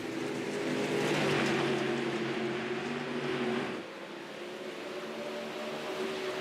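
Dirt late model race cars roar in a tight three-wide pack at Williams Grove, a steady dense engine drone from several cars that eases slightly as they pull away.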